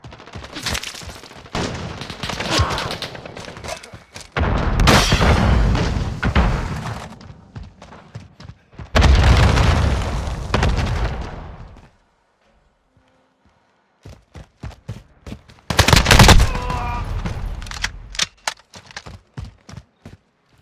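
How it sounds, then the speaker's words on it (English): Bursts of rapid gunfire and heavy volleys from the video game Modern Warfare, loud and close, separated by short pauses and quieter single shots, with no talking. "Just listen to the way the guns sound in this game."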